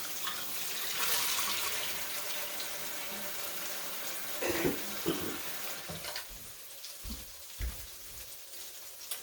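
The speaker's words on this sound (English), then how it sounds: "I'm going to wash my hands off." Water runs steadily from a tap while hands are washed underneath, with a continuous close hiss and splashing, followed by a few louder splashes and knocks as it eases off.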